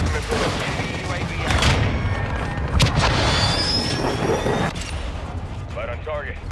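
Missile strike explosions boom and rumble in Call of Duty amid bursts of gunfire, with game voices speaking over the loud, chaotic battle.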